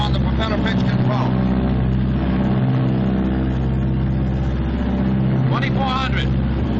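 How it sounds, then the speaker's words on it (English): Engines of a 1944 Martin B-26 Marauder bomber drone loud and steady with a deep throbbing rumble, throttled back to normal rated power, while a voice talks over the noise. "Throttling back now to normal rated power, which is 38 inches of manifold pressure."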